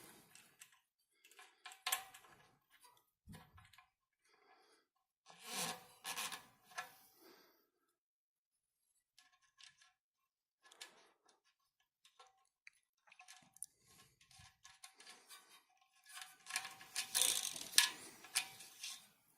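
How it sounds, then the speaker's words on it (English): A milKit core tool unscrews the valve core from a tubeless bicycle tire valve, giving quiet intermittent scraping and ticking bursts separated by silence, close and alone. "Then we use the core tool that comes with it to remove the core."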